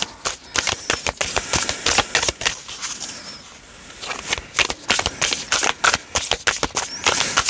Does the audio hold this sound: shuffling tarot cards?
yes